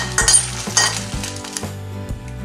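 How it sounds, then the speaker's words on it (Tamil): Four Kashmiri red chillies dry roasted in a pan, close metallic scrapes and clinks of a spatula with a light sizzle over low steady background music. "இப்போ மிளகாய் வறுத்துடலாம்"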